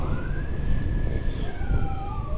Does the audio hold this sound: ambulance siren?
yes